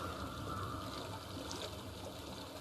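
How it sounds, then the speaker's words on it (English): Steady flowing water in the video game Hellblade: Senua's Sacrifice, a continuous broadband rush with a soft trickling texture, holding constant loudness throughout without any talk. "I hear water."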